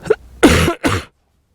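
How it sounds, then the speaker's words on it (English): A few harsh, close coughs in quick succession, then silence. "I need to cough."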